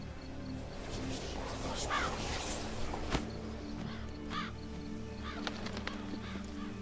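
A raven caws in The Witcher 3: Wild Hunt, several short harsh calls at moderate distance over an outdoor ambient bed with faint footsteps.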